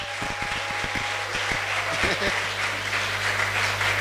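A church congregation bursts into applause, opening with a few distinct rhythmic claps that swell into a sustained wash of clapping, fairly loud and close.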